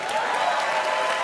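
Applause and crowd noise from an audience at a political campaign event, a dense, steady wash of clapping heard close and loud throughout, with no talk over it.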